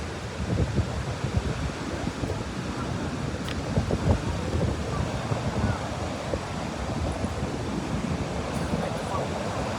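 Steady broadband rush of sea waves on the beach at Ganpatipule in the Konkan, continuous and moderately loud with wind buffeting the microphone.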